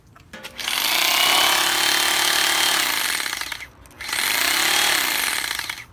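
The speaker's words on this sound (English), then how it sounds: "it's fairly quiet, comparable to the battery powered hammer drill with no rotary function" A corded Bosch GBH2-28L SDS-Plus rotary hammer drill runs in two loud, close bursts. Each burst is a rapid hammering clatter, and a short pause separates them.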